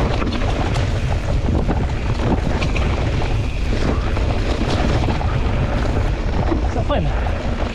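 A small motorboat drives across the water with a loud, steady engine drone. Heavy wind buffets the microphone and water rushes past throughout.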